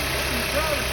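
A 2008 Dodge Avenger engine idling after a starter replacement, a steady close mid-pitched hum that stays even through the short stretch.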